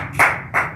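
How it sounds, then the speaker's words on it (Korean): A congregation claps during a Korean church service for Parents' Sunday, heard as two quick, sharp, close claps about a third of a second apart. "박수."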